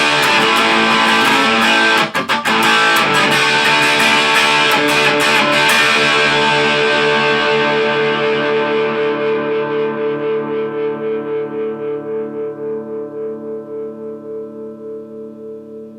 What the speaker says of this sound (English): the gain is turned up to 7, so you're going to get a lot of distortion